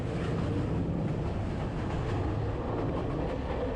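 Steady, loud rumble of a train rolling along rails in Sri Lanka, a continuous broadband roar with faint rhythmic clatter throughout.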